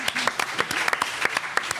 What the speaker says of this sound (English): Can we get a round of applause for Connor?